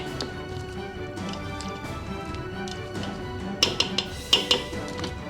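Spoon clinking and scraping in a pot of okra stew with beef stock being stirred, light irregular taps that grow sharper and louder toward the end, no voices.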